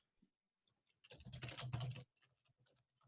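A zip code is typed on a computer keyboard in a quiet room. A few isolated taps lead into a rapid burst of keystrokes lasting about a second, followed by scattered lighter clicks.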